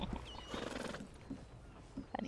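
Horse sounds from Red Dead Redemption 2 near a camp: a snort and soft neighing with light hoof clip-clops, fairly quiet, with brief rustling and movement noises and no speech.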